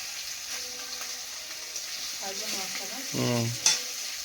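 Fish sizzling in hot oil, a soft, steady crackle with a few clinks and scraping sounds from cookware toward the end.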